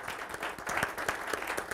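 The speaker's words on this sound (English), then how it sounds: "One more round of applause for Megan and Steve" An audience at a talk gives a round of applause: brisk, dense clapping from many hands, fairly close and even throughout.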